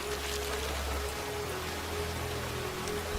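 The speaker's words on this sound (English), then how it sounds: "The rain is only getting worse, Apple Bloom." Rain falling in a My Little Pony cartoon episode, a steady, dense hiss of drops pattering on surfaces throughout, with a low hum underneath and no talk.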